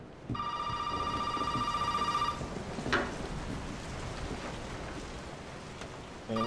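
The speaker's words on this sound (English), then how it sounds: "Oh shit, the phone ring." A telephone rings in the horror video game Resident Evil 7: a continuous electronic trill that lasts about two seconds, then stops and starts again at the very end, over a faint rain-like hiss.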